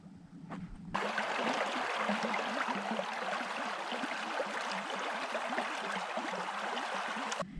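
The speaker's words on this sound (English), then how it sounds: "if you listen really carefully, you can hear the rippling water" Rippling water of the Weiser River in Idaho along a gravel trail, a soft, steady broadband wash that starts abruptly after a moment and holds evenly at low level, faint and distant-sounding.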